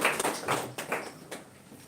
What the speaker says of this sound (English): Clap for Moses.